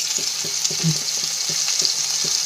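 Chopped hot green chilli and a pinch of asafoetida sizzle in hot oil in a pan, a steady bright frying hiss with soft rhythmic stirring taps underneath, close and alone without voices.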